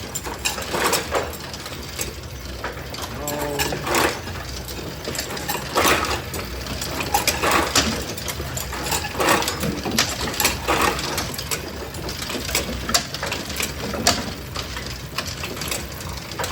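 A duckpin bowling pinsetter runs through its cycle behind the lanes, giving a steady mechanical clatter with scattered knocks and rattles that continue for the whole stretch.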